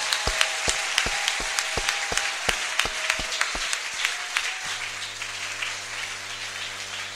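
A church congregation claps during a service, with a regular rhythmic beat of near, sharp claps over a softer crowd wash that tapers off as a steady organ-like drone rises near the end.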